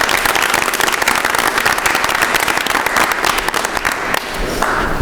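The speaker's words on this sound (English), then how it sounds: "Let's give them a round of applause." Loud, crisp clapping from an audience at a school board meeting honoring the Irving school team, sharp individual claps blending into continuous applause that eases slightly near the end.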